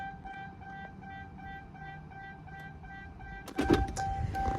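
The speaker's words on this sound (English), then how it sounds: "car's gonna keep beeping if I don't take the key out." Steady electronic chime from a car warning that the key is still in the ignition, a repeating tonal beep running throughout, with a burst of louder rustling and handling noise near the end.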